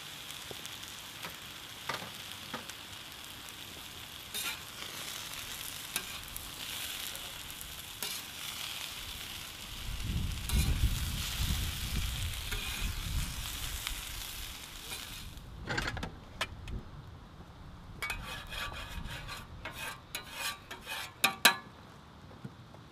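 Vegetables and sweet potatoes with basil sizzle steadily on a hot plancha griddle, a continuous hiss with scraping and clinking of utensils that swells midway, then fades into sparse metallic taps.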